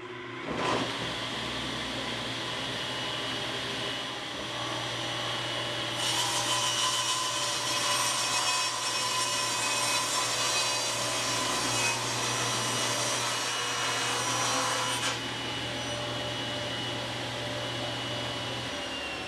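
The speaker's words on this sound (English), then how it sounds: "I'll start by cutting the carcass sides on the table saw." A table saw cuts MDO panels for carcass sides: the motor drones steadily, then a brighter, louder cutting whine runs for several seconds as the blade passes through the sheet before easing back.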